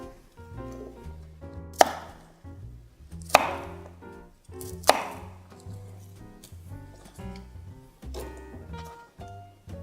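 A knife chops food into bite-sized pieces at an angle on a cutting board, giving three sharp distinct cuts followed by quieter irregular knocks and taps, close and alone.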